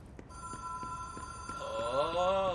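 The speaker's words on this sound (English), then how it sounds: "that synth pulse has been the hotline ringing this whole time" In the video game Control, the hotline phone rings as a steady synth pulse with a sustained electronic tone, and a wavering warbling tone rises over it toward the end, moderately quiet.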